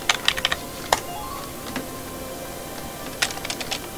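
Computer keyboard keys are pressed in short clusters of crisp clicks, including the spacebar, with a pause in the middle, close and clear with no voices.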